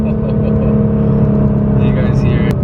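A Nissan GT-R R35 fitted with an Fi exhaust revs loudly and close up, its deep droning exhaust note holding steady with a raspy rising edge near the end.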